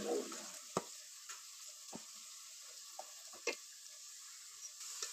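Onions browning in oil before chicken goes in, a faint low sizzle punctuated by sharp spoon taps and scrapes against the pot at irregular intervals.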